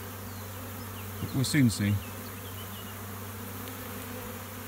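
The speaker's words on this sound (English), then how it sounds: "There's a fair few bees in there." Honey bees from a swarm produce a steady, faint buzzing hum that continues throughout, with someone speaking briefly over it.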